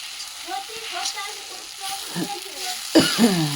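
Egg frying into an omelette, a steady sizzle heard under close talk and a voice.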